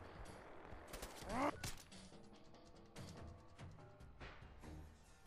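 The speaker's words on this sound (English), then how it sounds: "I got this fucking automatic pipe rifle" An automatic pipe rifle fires in Fallout 4, sharp bursts of gunfire clustered around the middle and scattered later shots, fairly close but at modest overall volume.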